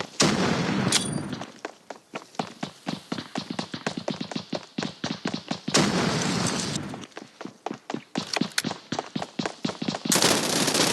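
Repeated gunfire and explosive bursts in a video game, with sharp rapid cracks in rhythmic clusters and a few louder booms separated by short pauses.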